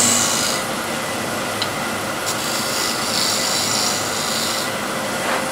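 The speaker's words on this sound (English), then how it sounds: "Some nice gentle strokes with the scraper." A scraper strokes a turned wooden bowl in a continuous run of close, raspy rubbing that barely pauses over several seconds, with brief brighter scrapes along the way.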